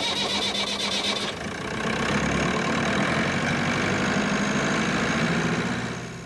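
A car engine cranks briefly, then catches and settles into a steady, even idle, loud and close with no voices.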